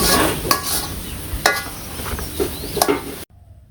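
Vegetables frying dry with salt and turmeric in a pan: a steady sizzle runs throughout while a utensil scrapes and taps against the pan at intervals, close and moderately loud, ending abruptly.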